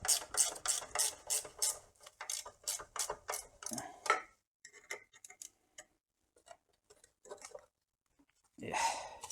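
Tightening a bolt on a Citroen SM while working on the speedometer: a fast ratchet clicks rhythmically up close, then pauses, followed by scattered lighter clicks and a final short burst of ratcheting.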